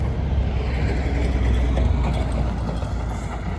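A heavy truck rumbles past outdoors along a garden path in early spring, a loud, steady low engine drone with rattling that holds for several seconds and eases slightly at the end.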